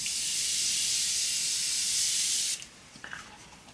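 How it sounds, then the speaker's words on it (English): A continuous close spray hisses for about two and a half seconds, then stops, followed by a few faint small clicks. "One more round of setting spray."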